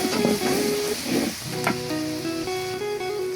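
Spices with ginger and garlic frying in a pan, a steady close sizzle with stirring scrapes and light clinks, no voices.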